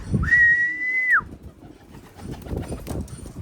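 A single sustained human whistle, rising then holding a steady pitch for about a second before dropping off, used to call a pigeon back to its loft, followed by soft outdoor rustling and faint background noise.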